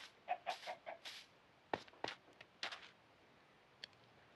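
Chicken clucks from the video game Minecraft, several faint short calls in quick bursts with a few sharp ticks, quiet and alone.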